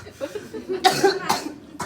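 A child coughs hard during a pediatric respiratory therapy session, giving two sharp close bursts with quiet breathing and faint voices around them.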